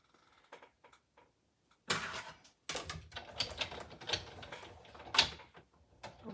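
A die-cutting machine runs card stock through its rollers with a grinding, clattering mechanical rumble, preceded by a few light taps and handling sounds, then a couple of sharper knocks, with no voices.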